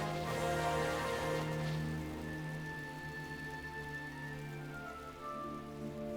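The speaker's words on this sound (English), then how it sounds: "Oh, it's raining." Rain falls steadily in Final Fantasy XII: The Zodiac Age, a soft wash of droplets running the whole time beneath game music and ambient tones, with no talk.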